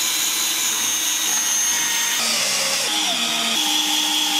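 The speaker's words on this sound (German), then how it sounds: "So bohren wir jetzt erst mit einem 3 mm Bohrer vor." A power drill with a 3 mm bit bores pilot holes in wood, a steady high whine that shifts pitch in steps as the bit bites, then cuts off abruptly at the end.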